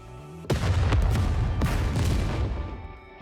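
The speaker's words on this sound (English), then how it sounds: "a massive explosion triggers underneath" A massive explosion in the video game Nikke erupts with a sudden loud boom, then a second blast follows about a second later, both rumbling into a long, dense roar that slowly fades.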